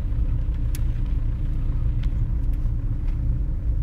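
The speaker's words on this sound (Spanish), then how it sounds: "El coche está encendido." A car engine idling inside the vehicle, a steady low rumble throughout with a few faint clicks and no one speaking.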